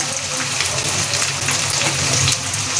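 Stuffed capsicum frying gently in a pan over a low flame, giving off a steady, even sizzle throughout with no voices.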